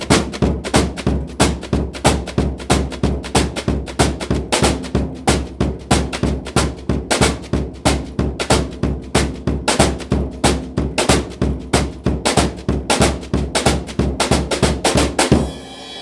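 Brushes on a snare drum play a shuffle pattern at double time, a dense, fast, unbroken run of crisp swishes and taps over a steady low pulse, close up with no voices.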